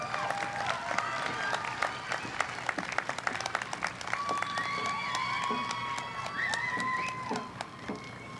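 Audience applause for honorees at a virtual academy graduation and promotion ceremony, a steady wash of clapping with scattered voices and faint cheers throughout, fairly distant and even in level.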